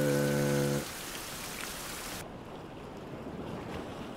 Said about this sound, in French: Moi, j'aime bien lire sous la pluie.